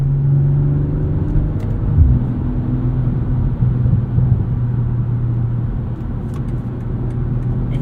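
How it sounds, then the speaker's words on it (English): Steady drone of a 2023 BMW M340i xDrive 3-liter inline-six under way on winter tires: a loud, continuous interior rumble with engine note rising and falling slightly as the car drives, no talking. "Just can't beat the sound of this 3-liter inline 6."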